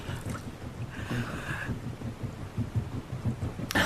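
Steady rain with low rumbling thunder on a stormy night, a continuous wet wash with a brief brighter burst near the end, heard alone without voices as an audio drama effect.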